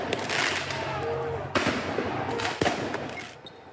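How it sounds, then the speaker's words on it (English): Fireworks go off during a riot as they are fired at retreating police: sharp bangs and crackling bursts cut through a noisy crowd, with voices faint in the background. "some shot fireworks at retreating police."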